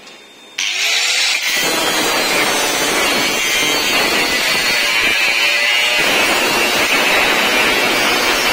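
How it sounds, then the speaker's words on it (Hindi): MIG welding on door parts at a door-making workshop produces a loud, steady crackling buzz. It starts abruptly after a quiet half-second and then runs continuously to the end. "ये हम इसमें मिक वेल्डिंग यूज करते हैं।"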